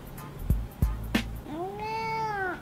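A pet cat lets out a single long, drawn-out meow close by, preceded by a few soft thumps and knocks, with no talking.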